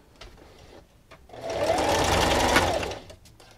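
A sewing machine stitches a fleece blanket in one steady, loud run of about a second and a half, with quieter handling sounds before and after.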